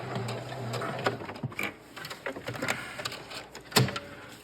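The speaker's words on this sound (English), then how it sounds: "We sew all the way around until we come to our mark where we're gonna stop." Sewing machine stitching around the edge of a coyote fur hat, a quiet mechanical whir with irregular clicking bursts and a sharper clack near the end, close by with no talking.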